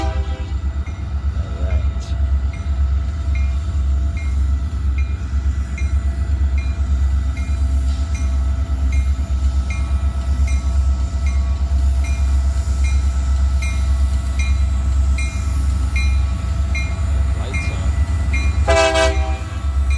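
Union Pacific SD40N and SD40-2 diesel locomotives haul about ninety cars past close by with a loud, steady rumble and rail noise, and a horn blast sounds near the end.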